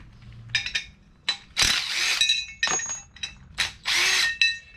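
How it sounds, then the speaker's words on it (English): A power tool spins bolts out of a Suzuki Every van's differential, in short, loud, whirring bursts separated by brief pauses, with metallic rattles between them. "Need to get these bolts out of here."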